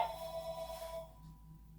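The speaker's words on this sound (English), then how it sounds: "Oh, there goes my phone again." A phone rings indoors at home, a single faint, steady electronic tone that fades away after about a second.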